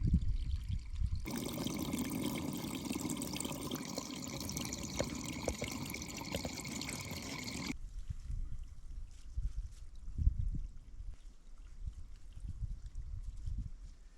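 Mountain spring water in the Appalachian Mountains trickles and splashes steadily nearby, with a louder rushing stretch early on before settling into a gentler flow.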